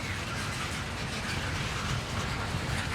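A loaded coal train rolls past on the rails in Virginia, giving a dense, steady roar of wheels and rail noise that stays close and constant throughout.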